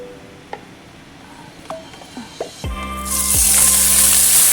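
Beef tendons stir-fried in a wok. A few scattered clinks and taps come first, then a loud rising sizzle as the tendons hit the hot wok, with no talking.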